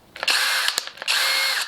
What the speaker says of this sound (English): Alright, first we're going to test out the Skil.